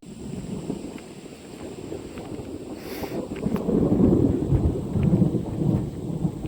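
Thunder rolling during a storm just after lightning, a low rumble that swells in the middle and trails off, heard outdoors with wind and faint rain, no voices.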